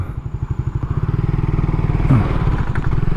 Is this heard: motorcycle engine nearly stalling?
yes